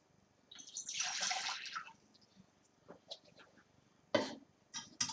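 Water is poured into a clean saucepan while preparing priming sugar for home-brewed beer: a soft splashing pour lasting about a second, then quieter trickles and a few sharper drips and clinks near the end, with no talk.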